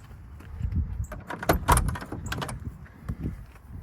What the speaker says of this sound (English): Let's go around here to this door so you can hear this door as well.